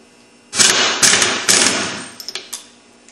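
A pneumatic impact gun rattles off a lock washer nut on a Yamaha YFZ quad engine during a crankshaft job, three loud, close buzzing bursts in quick succession, followed by several light metallic clicks.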